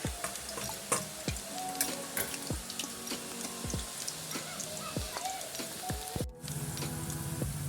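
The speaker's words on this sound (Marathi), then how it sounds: "ते मी बारीक गॅसवर चांगले तळणार आहे जास्त वेळ, म्हणजे ते क्रिस्पी होतात" Thin banana slices fry in hot oil over a low flame, giving a soft continuous bubbling sizzle, with irregular clinks and knocks of utensils against the pan and a brief pause near the end.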